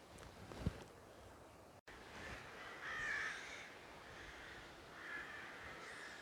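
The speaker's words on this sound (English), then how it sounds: "Ominous crows are ominous" Crows caw a few times at a distance over a faint outdoor hush on a countryside hike near water, the harsh calls spaced out and moderately quiet.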